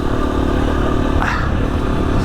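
Steady motorbike engine running continuously at close range, a constant droning rumble with a brief rise partway through, heard alone without talk.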